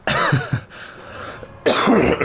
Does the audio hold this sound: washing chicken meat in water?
no